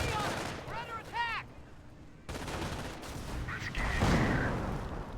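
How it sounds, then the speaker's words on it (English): Rifle fire rattles through a Company of Heroes 1 match between US and Wehrmacht forces, with dense bursts of shots and explosions layered over the battle, while a voice speaks briefly over the noise near the start. "Rifle squad takes some fire there"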